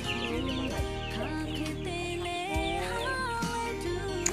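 Pradu Hang Dam chickens on a farm clucking and calling close by, several overlapping birds with rising and falling squawks in a busy, continuous chatter.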